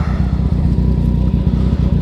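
Yamaha FZ09 motorcycle engine idling close by on a chilly night, a steady low rhythmic putter with even pulses running throughout, with no talk.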